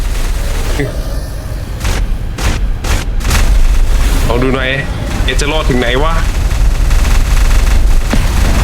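Heavy booming cannon blasts and rapid gunfire from a Minecraft battle against the Wither Storm, loud and continuous, with an excited voice talking over it.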